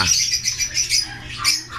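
Dense, busy chirping and tweeting from many caged birds for sale at once, a continuous overlapping chorus of high calls close by.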